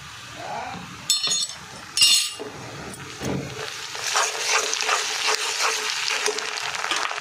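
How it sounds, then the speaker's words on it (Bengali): Ginger-garlic paste goes into a pan of browned onions for beef biryani: a couple of sharp metal clinks come first, then a steady, rising sizzle fills the rest, close and moderately loud. "এখন আমি দিয়ে দেবো আদা রসুন বাটা।"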